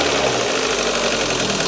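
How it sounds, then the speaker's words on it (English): Car engine idling just after a cold start, a loud, steady, close rumble with no change in pitch. "Still on cold start, so don't rev it too much."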